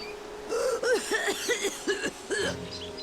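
A video game character in Lightning Returns: Final Fantasy XIII coughs repeatedly in a rough, rhythmic fit, about six hacking coughs in quick succession, close and clear with nothing else behind it.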